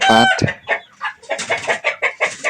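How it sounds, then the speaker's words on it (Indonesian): A large rooster's loud crow-like call followed by a run of rapid, repeated clucks, close and clear with short gaps between bursts. "Di sini saya tempatkan satu ayam jago yang besar ini."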